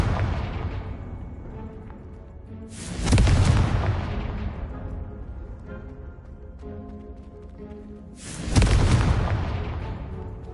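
Confringo spell blasts in Hogwarts Legacy, two loud booming explosions a few seconds apart, each a sharp burst that rumbles and fades over a low background hum.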